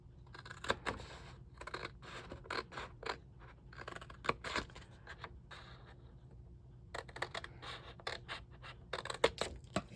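Scissors cutting through card for a Halloween candy box, quiet close snips and scrapes in irregular bursts with a lull in the middle, no talking.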